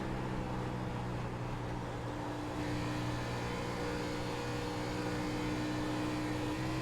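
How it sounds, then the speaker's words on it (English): An Xfinity race car engine in a racing video game drones at a steady high pitch, holding a constant roar with no clear shifts or revs throughout. "So let's listen to see how his engine sounds"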